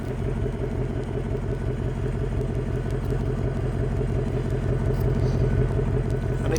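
A 2024 Ford Mustang GT V8 idles with its active exhaust and quad tips, giving a deep, steady, throbbing rumble up close that holds constant throughout.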